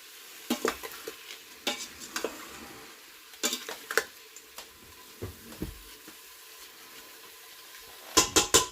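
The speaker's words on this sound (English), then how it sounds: "I'm just going to let this cook for a little bit until all sides are basically cooked" Chicken pieces cooking in a pan for chicken cacciatore, a quiet sizzle under a scattering of sharp utensil scrapes and taps on the pan, ending with a quick cluster of louder clatters.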